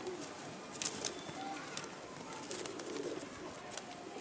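Pigeons coo softly in a loft, joined by a few brief wing flutters and bursts of flapping as birds take off, all against a steady background hum.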